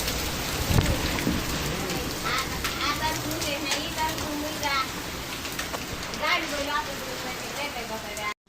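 A heavy downpour with strong wind drums steadily and loudly on surfaces outdoors near a house and trees, with a dense hiss throughout and a low rumble early on.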